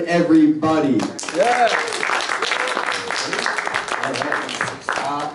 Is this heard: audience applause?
yes